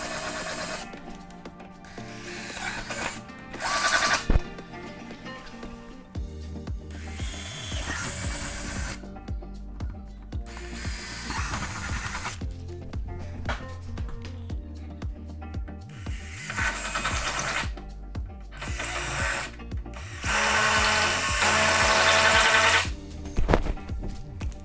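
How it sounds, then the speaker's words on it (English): Power drill boring holes through a Harley-Davidson tour pack along a mounting template, repeated close, loud whirring bursts separated by short pauses. "we're gonna do some drilling really quick"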